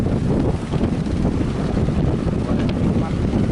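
Strong wind on the beach at Puger with boats and speedboats out on the water, a loud continuous roar of gusts battering the microphone, steady throughout with no clear voices.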